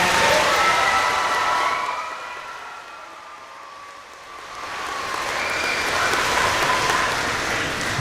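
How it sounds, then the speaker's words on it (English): Applause for veterans at an elementary school Veterans Day program, a broad crowd clapping that dips quieter midway, then swells again with scattered cheers. "Can we give one more round of applause to all of our veterans?"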